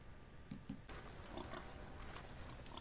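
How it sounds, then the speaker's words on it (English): Wild pigs or boars grunting in Red Dead Redemption 2 at night, two short low grunts early on, faint and distant against a steady outdoor background. "appears we have some wild pigs"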